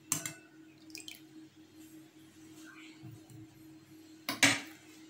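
Egg roll batter is stirred in a bowl in a quiet kitchen. A few sharp clinks of a utensil against the bowl come at the start and near the end, with soft wet drips and stirring between them.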